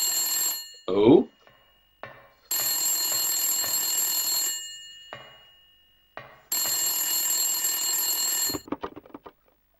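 An old-fashioned electric bell telephone rings in the Silent Hill video game, loud shrill bursts lasting a couple of seconds each, separated by pauses, with a brief spoken voice early and scattered clatter near the end.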